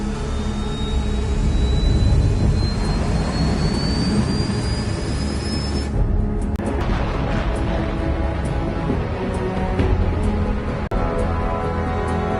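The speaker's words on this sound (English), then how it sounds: "All this plane could do was take off, accelerate, and fly up." A jet fighter in Ace Combat 7 roars loudly as it takes off and accelerates, a dense, powerful engine rumble with a rising whine that cuts off midway, then a sustained thrust roar continuing to the end.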